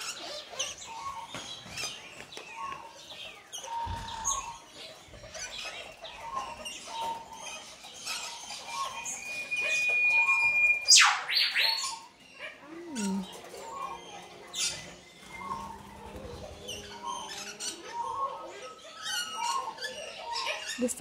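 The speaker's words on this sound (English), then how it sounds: "Maingay na yung birds, guys." Many birds in an aviary chirp and call at once in a busy, continuous chorus, with one sharp loud squawk midway and a dog-like bark.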